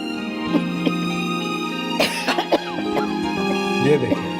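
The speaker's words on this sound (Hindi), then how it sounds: "ये खांसी अभी तक सही नहीं हुई।" A few harsh coughs break through ongoing background sound, with a cluster of sharp bursts near the middle and another toward the end.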